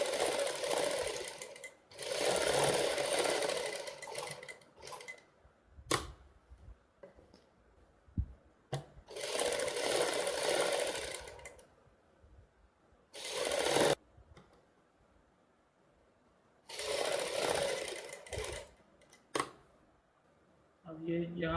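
A sewing machine stitches a Punjabi suit in several loud, rapid bursts of a few seconds each, separated by pauses with quiet handling and clicks; someone talks in the gaps.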